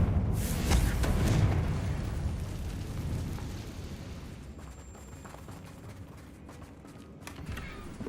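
A Confringo fire spell blasts in the video game Hogwarts Legacy, a loud, booming burst at the start that rumbles and fades over several seconds into a lower, crackling tail.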